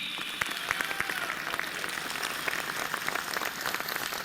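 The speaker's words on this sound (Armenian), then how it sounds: "մենք բոլորս բարձր ծափերով ողջունենք 10 եպիսկոպոսներին" An audience applauds in a church-reform gathering welcoming ten bishops, dense continuous clapping of many hands at moderate distance with no lull across the stretch.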